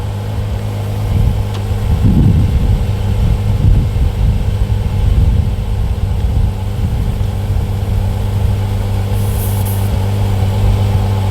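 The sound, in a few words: DeWalt tire inflator pump running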